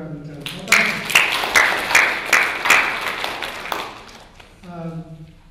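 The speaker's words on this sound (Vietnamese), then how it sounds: "Cho cha Quang một tràng pháo tay." Short burst of audience clapping at a gathering of priests and religious, rising after a voice stops, swelling in uneven waves and fading before speech resumes at the end.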